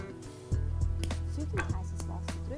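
A dark chocolate bar snaps into small pieces with several sharp, quiet cracks and clicks in close succession over a low background hum.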